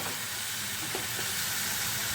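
Spices frying for a Bengali katla kalia fish curry make a steady, close hiss and sizzle that holds level throughout the short stretch, with no voices.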